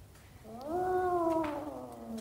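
One drawn-out cat meow rises and then slowly falls, fairly close, over faint background noise.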